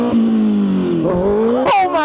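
Suzuki Hayabusa motorcycle pulling hard in first gear, engine pitch climbing then dipping through revs, ending with a sharp high rising surge; loud and close.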